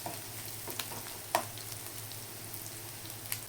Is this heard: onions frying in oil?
yes